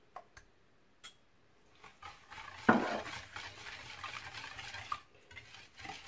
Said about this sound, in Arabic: غادي نخلط هادشي مزيان